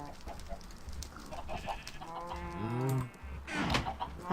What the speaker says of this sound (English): Noisy cows.